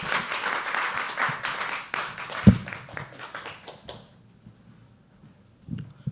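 Audience clapping at a live poetry open mic, a brief round of scattered hand claps that fades after a few seconds, with a sharp knock partway through and faint murmuring left in the quiet afterward.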